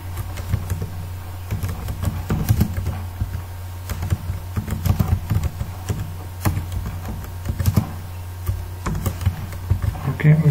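Computer keyboard keys clatter steadily and close over a constant low hum, in uneven bursts of keystrokes throughout with no voices.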